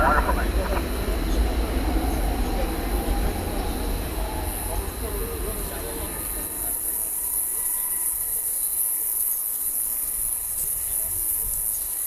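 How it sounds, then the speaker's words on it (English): At night at DFW Airport, an American Airlines Boeing 737-800 jet departing for Boise, Idaho rumbles low and broad, strong at first, then thinning and fading away after the midpoint as a high insect-like hiss continues. "Here goes a 737-800 off to Boise, Idaho"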